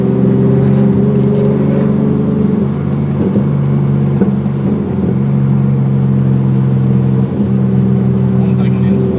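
A loud, droning car engine with no exhaust fitted holds a steady pitch, with a few shifts in tone as it revs, heard from nearby amid road noise at a Powercruise car event.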